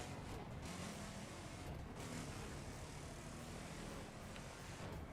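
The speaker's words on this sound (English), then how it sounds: "this car has the exact same engine sound." Steady, loud car engine drone from The Crew racing game, an old-school Camaro-style engine sound held at constant volume throughout, with a low rumble and no talking.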